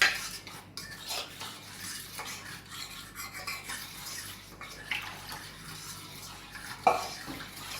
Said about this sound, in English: mixing the cornmeal into a smooth paste